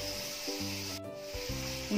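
Shallots sautéing in a pan with turmeric and salt for a Kerala-style beef roast give off a steady, close sizzle with soft stirring scrapes, and no one speaks.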